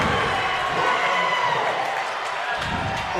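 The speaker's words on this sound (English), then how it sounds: "the crowd is really happy about that one" A high school basketball crowd at a Lawrence County versus Giles County men's game cheers loudly after a steal and slam dunk, a sustained roar of voices that tapers slightly toward the end.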